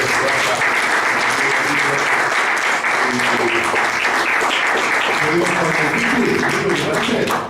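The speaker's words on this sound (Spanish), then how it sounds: "Entonces le propongo que lo aplaudamos a Eduardo" Audience applause at an Arte para Resistir cultural event, dense and steady clapping from a full room that holds strong for the whole stretch, with some talking mixed in.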